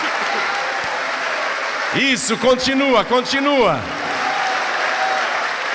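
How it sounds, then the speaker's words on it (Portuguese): Church congregation applauding in a broad, continuous wash of clapping, while a voice speaks over it in the middle. "vamos dar para esta palavra a melhor salva de palmas"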